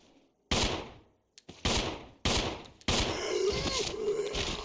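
Handgun shots in Resident Evil 0: four loud, sharp reports spaced about a second apart, each ringing out with a decaying tail, the last followed by a creature's moan.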